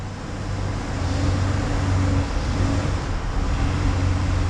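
A car engine idles steadily and close, its low hum holding under a faint roadway-like rumble throughout, with a slight swell in pitch during a transmission check in neutral and drive.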